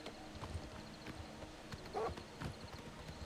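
Horse hooves clip-clop in Elder Scrolls: Oblivion Remastered, a quiet, steady run of soft game hoofbeats with a brief louder step partway through and a faint whinny-like sound, no voices.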